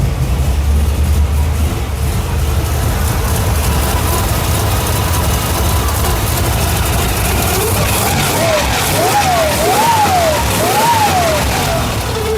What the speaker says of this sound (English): listen to those timing gears though